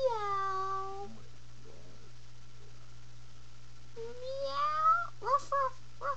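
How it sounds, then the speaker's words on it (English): A cat meows twice, loud and close, with a drawn-out first cry and a longer, wavering second one, over a quiet background hum with faint rustling in between. "Meow."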